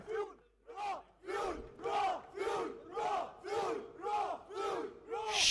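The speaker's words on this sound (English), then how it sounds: "The cheering squad really is just boundless. So full of energy, so pumped up." An esports crowd at a Valorant grand final chants in rhythmic unison, with loud, regular rising shouts of cheering and screaming repeating about every half second, energetic and reverberant.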